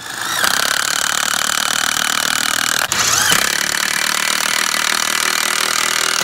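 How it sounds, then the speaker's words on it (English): A power drill bores a pilot hole to mount a garden hose reel, running as a loud continuous whine with one brief pause near the middle before it picks up again, close by and with no talk. "I'll go in and do the bottom pilot hole, tighten everything up"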